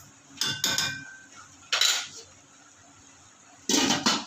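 Frozen carrots and mixed vegetables cooking in a pan get a lid set on top, giving a few sharp metallic clinks and clatters in separate bursts over a soft background hiss.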